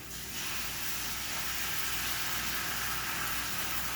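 Eggs frying in a hot pan for a breakfast sandwich give a steady, broad sizzle that starts abruptly and holds loud and even, with no talk over it.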